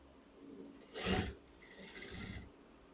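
A sewing machine running briefly as it stitches along the top edge of a folded fabric strip laid against a border, a short mechanical whir followed by a softer rubbing buzz, with no speech.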